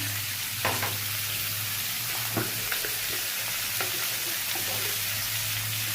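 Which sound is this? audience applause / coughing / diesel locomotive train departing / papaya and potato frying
papaya and potato frying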